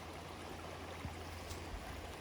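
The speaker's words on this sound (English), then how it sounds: "Let's listen to the water and see if we can feel those ripples through our body" Steady broadband wash of flowing stream water, a soft continuous rush with faint low rumble and no voices, even and unbroken throughout.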